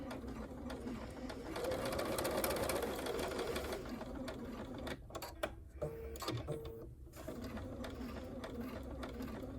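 A sewing machine stitches a fabric doll in a continuous mechanical whir that pauses and restarts in short bursts as the work is turned. It is fairly close, with no talking.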